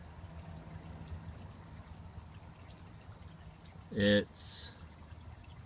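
Air leaking from a nearly deflated Intex spa bursts up through the water in two short bubbling gurgles near the end, after a quiet stretch of low background hum; a brief spoken word comes just before.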